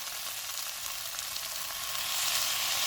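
Chicken frying with capsicum, onion and soy sauce in a pan, a dense, loud, continuous sizzle that swells slightly toward the end, with no talking.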